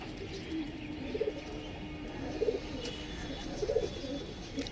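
Pet pigeons kept as a hobby coo in three distinct low bubbling bursts, spaced about a second apart and fairly close, over a quiet hum of room noise.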